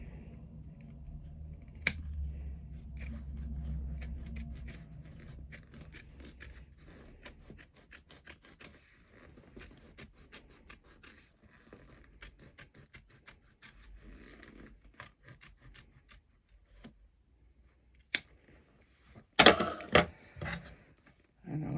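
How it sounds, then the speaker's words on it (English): Sharp scissors trimming foam out of a bag seam allowance, a run of quick crisp snips and cuts with a louder burst of snipping near the end, heard close without talk. "So you can actually usually just take a little pair of scissors, sharp scissors"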